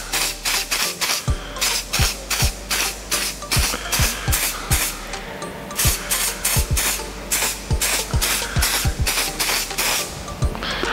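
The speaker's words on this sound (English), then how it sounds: "this is the best holding spray out there." Aerosol hair holding spray applied in a barbershop after a cut, a rapid series of short pumped hissing bursts, close and loud, with a faint steady hum underneath.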